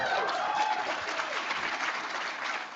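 Audience applause at an Institute of Politics anniversary event with a Secretary of State, steady dense clapping from a crowd filling the whole stretch, fairly loud and continuous without speech.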